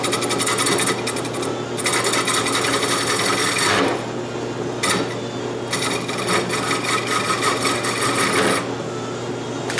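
A wooden bowl turning on a belt-driven drill press while a tool rasps and scrapes the wood, coming in long rough bursts with brief pauses between them, close and loud.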